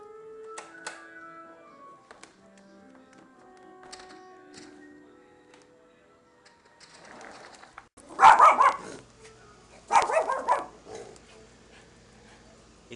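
A dog barks in two loud, close bursts of yips and yelps, with faint whimpering and light household noise in the quieter stretch before.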